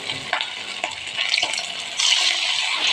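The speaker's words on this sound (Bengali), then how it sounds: "কড়াইতে তেল গরম হয়ে গেছে, আমি একে একে সজনে ফুলের বড়াগুলো ভেজে দেবো।" Drumstick flower fritters going into hot oil in a wok, bursts of crackling sizzle as each piece drops in, swelling into a louder continuous fry.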